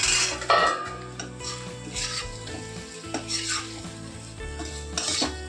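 Potato and pea fry stirred in a sizzling pan, a spoon scraping and clinking against the metal in repeated strokes over a constant frying hiss, close and clear.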